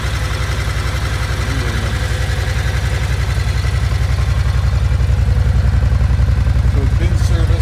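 A 2008 Suzuki Boulevard C90 1500 touring motorcycle idles steadily nearby, its low, even engine throb and mechanical rumble running unbroken throughout.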